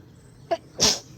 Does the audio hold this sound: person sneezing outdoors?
yes